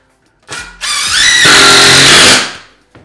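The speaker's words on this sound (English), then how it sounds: "And then you just tighten all the screws in." Power drill driving screws through a ceiling board while installing faux wood beams: a loud whirring burst rising in pitch and holding steady for about two seconds, then cutting off, close and alone.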